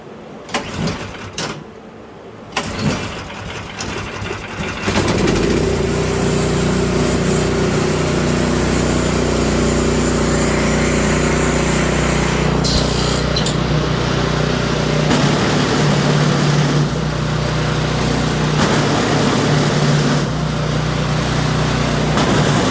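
A Toro Power Clear 721E snowblower engine that had been refusing to start because of carburetor trouble: a few seconds of sputtering and handling noise, then the small engine catches and runs at a steady loud drone, close by, with no talk.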